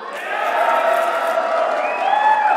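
A live crowd at a pinball awards show cheering and whooping, loud and close, with shouts and yells layered together over a couple of seconds.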